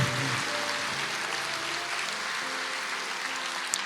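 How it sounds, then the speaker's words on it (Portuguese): A church congregation applauds together, a soft continuous patter of many hands heard at a distance and fairly faint, with no clear voices over it. "Aplauda o Senhor, igreja. Aplauda o Senhor."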